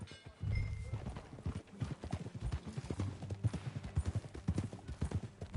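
Horse hooves clip-clop in a steady trotting rhythm, close and clear, with a brief snort early on, in the video game Red Dead Redemption 2.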